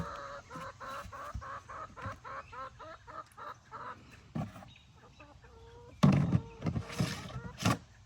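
Chickens cluck in a steady rhythmic series close by, followed by louder rustling and flapping as more birds stir.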